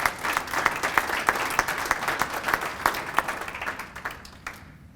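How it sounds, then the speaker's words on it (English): A college alumni awards ceremony audience applauds steadily, dense claps filling the room at close range for several seconds before the clapping thins and fades out at the end. "But let's give Michelle a round of applause as well."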